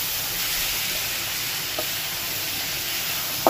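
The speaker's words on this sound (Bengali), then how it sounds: "ডালটা একবার ভেজে নিয়েছি, কিন্তু চালের সাথে আবার তেলের মধ্যে ভেজে নেব।" Dal and rice frying together in oil in a clay pot for khichuri, a constant soft sizzling hiss with a few faint clicks of stirring, close and steady, no talking.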